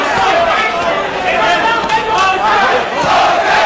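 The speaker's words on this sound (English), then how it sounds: "Crowd taking up the chant of Jose." Boxing arena crowd at a heavyweight Tyson fight chanting in unison, a dense, loud roar of many voices sustained throughout with rising and falling surges.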